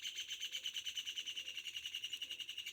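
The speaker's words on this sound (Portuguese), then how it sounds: "Olha que canto lindo do pássaro, né?" A bird sings a rapid, evenly repeating high-pitched call, trilling continuously and fairly faint, with no talking over it.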